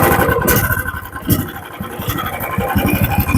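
A P4206 petrol wood chipper engine with electric start runs close by, a loud, steady, rough drone with a fast pulsing beat throughout and no speech.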